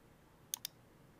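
Two quick, crisp clicks from a computer keyboard and mouse, a fraction of a second apart, close-up and fairly quiet against a low background hiss.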